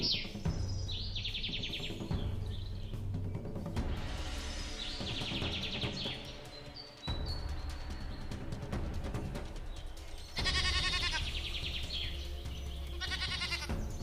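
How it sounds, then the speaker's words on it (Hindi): Cartoon goats bleat repeatedly in an animated Hindi story, several wavering high calls overlapping with chirping birds and light background music, fairly loud and continuous. "अरे वो रही मेरी सारी गाय और बकरियां"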